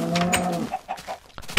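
A short burst of Minecraft chicken clucking and squawking, close and clear, followed by a few soft clucks and faint rustling.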